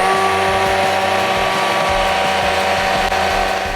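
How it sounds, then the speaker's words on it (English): A stick blender whirs loudly and continuously, its motor pitch wavering slightly as it churns through thick pumpkin soup puree. "that's just going to make the pumpkin puree move over the blade of the stick blender"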